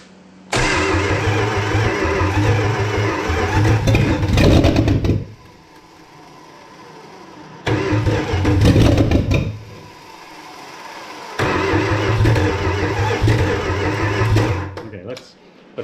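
A 1965 Plymouth Fury wagon's rebuilt 318 engine cranks and catches three times, running loud and rough for a few seconds each before cutting out, with people talking over it.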